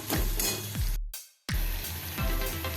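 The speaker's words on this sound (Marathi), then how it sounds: "एक चमचा आलं आणि लसूण कुटून घेतलेलं आहे अगदी बारीक कुटलेलं आहे ते पण आपण फ्राय करून घेऊया" Crushed ginger and garlic with onion fry in a pan, with a steady broadband sizzle and a few scraping stirs, broken by a brief drop to near silence midway before the frying resumes.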